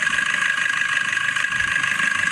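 A Maruti Swift Dzire ZDi diesel car idles at a standstill, giving a steady, even engine hum with a faint mechanical buzz that holds without change. No voices are heard.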